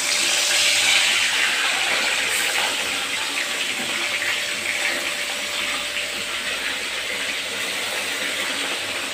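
Fish dropped into hot oil for a Bengali katla fish curry, giving a loud, steady, broadband sizzle that stays close and constant throughout, with no talking.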